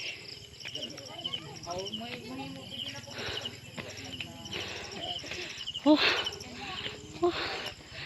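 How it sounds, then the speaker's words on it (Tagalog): Crickets and other night insects chirp steadily outdoors at night in the Tsedi highlands of Mabini, Bohol, a dense continuous drone with a few louder rustles and bumps near the end, and voices faintly in the background. "Nakadungog mo sa mga huni sa mga mananap sa kagabion. Mga kuliglig."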